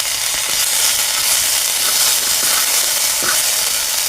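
Garlic paste sautéing in a hot pan while being stirred, giving a loud, steady, close sizzle with faint scraping strokes and no voices.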